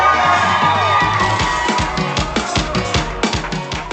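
A large crowd at a youth investment forum cheers, screams and whoops loudly over driving music with a thumping beat, with the noise rising and falling in waves.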